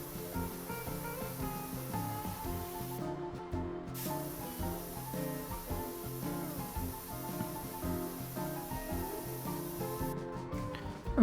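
Spray painting a car in the video game Car Dealer Simulator: a steady, continuous hiss of spray runs throughout, with two brief gaps, set against dense game music.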